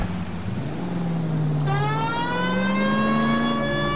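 Police car siren in the video game L.A. Noire, a loud wailing tone that rises and falls over steady engine and road noise, sounding continuously close up with no talk.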